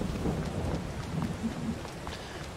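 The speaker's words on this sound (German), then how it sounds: "Und wir haben Gewitter." A thunderstorm in Farming Simulator 22: steady rain hisses throughout while low thunder rumbles roll underneath, with no voices.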